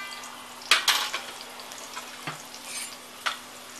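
Medium onions sliced lengthwise with a pinch of asafoetida, stirred in a pan for a village mutton dish: a few close, sharp spatula scrapes and clinks over a soft sizzle, spaced irregularly across a few seconds.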